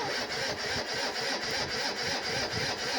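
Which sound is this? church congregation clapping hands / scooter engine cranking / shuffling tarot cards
scooter engine cranking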